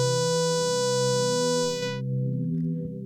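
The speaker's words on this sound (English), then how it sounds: "If we change the shape of the slope, we change the order that the samples of our sine wave are played back." A phase distortion synth voice: a steady sine-based tone made bright with added harmonics, sustained for about two seconds, then cut back to a low, dull hum.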